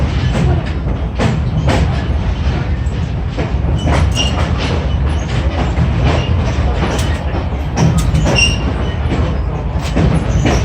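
A passenger excursion train rolls along rails near Nesquehoning Junction with a loud, continuous rumble, steady wheel clatter and occasional squeals, close by and uninterrupted by voices.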